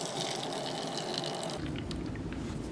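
About 330 milliliters of water pours into a Russian special forces MRE ration pouch, a continuous close splashing and trickling that changes pitch as the pouch fills, with no speech.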